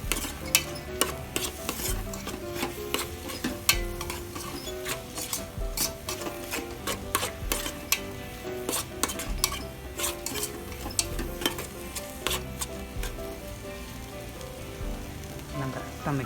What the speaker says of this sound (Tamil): ஸோ இப்போ நல்லா மிக்ஸ் பண்ணிடலாம்.